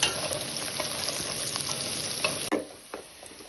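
Chili powder fries and sizzles in a generous amount of hot oil for a potato and okra fry. The hiss is dense and continuous, with a few stirring scrapes, and it drops off sharply near the end.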